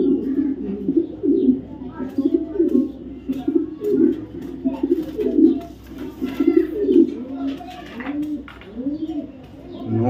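Racing pigeons, silver checker and chocolate checker birds, coo steadily in a loft, their low rolling calls repeating close by throughout with a few faint chirps behind.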